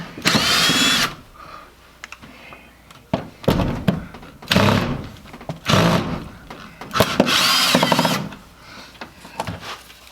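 A power drill whirs in several bursts while fitting new mirrors on a Jeep, with loud high-pitched whining spells separated by quieter gaps and occasional clunks, close by.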